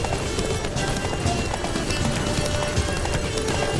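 A horse gallops with rapid clip-clop hoofbeats in The Witcher 3 video game, steady and close, set in a dense, busy game soundscape with a brief whinny-like sound mixed in.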